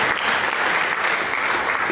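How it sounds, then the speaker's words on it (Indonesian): Church congregation clapping at a worship service, a dense, steady wash of applause filling the room for the full two seconds. "Berikan tepuk tangan bagi Yesus."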